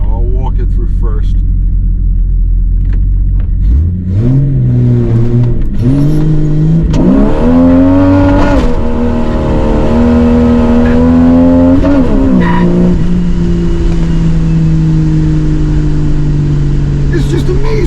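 A car with a completely stock engine accelerates hard through several gears, starting gently because traction is poor; the engine note climbs in repeated surges with each upshift, loud and close, ending in a steady high cruise.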